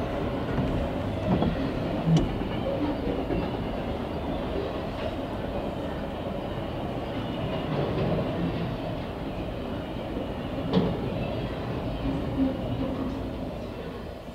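CSX freight train cars roll steadily past a railroad crossing, heard from a distance, with a continuous rumble and faint clanks from the wheels and couplers.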